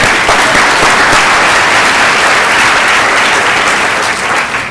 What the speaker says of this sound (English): a round of applause to all of your future work